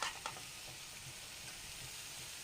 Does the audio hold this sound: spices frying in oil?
yes